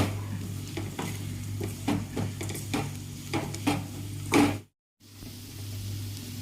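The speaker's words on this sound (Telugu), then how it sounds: "అప్పుడే కారం వేసేసి ఇది మొత్తం మిక్స్ చేసుకుంటాను" Bitter gourd fry with chilli powder being stirred in a pan, a spatula scraping in a steady series of strokes over a low hum and soft sizzle, near and clear, ending in a brief silence.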